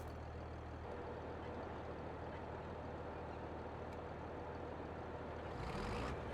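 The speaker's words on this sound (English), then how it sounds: "This tractor fired up" A tractor engine runs with a steady, loud, unbroken rumble at close range, with a brief change in tone near the end.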